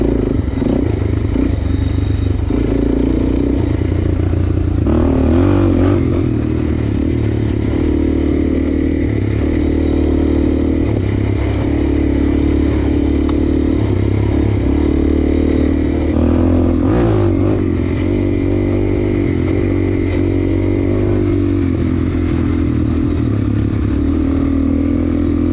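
Suzuki DRZ400 dirt bike engine revving continuously during a ride, loud and close with steady low rumble, rising throttle surges and some mechanical clatter throughout.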